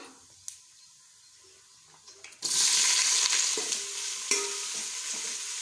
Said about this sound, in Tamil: இந்த ஸ்டேஜில் வந்து நீல வாக்கில் கட் பண்ணி வச்ச வெங்காயத்தை சேர்த்துக்கலாம்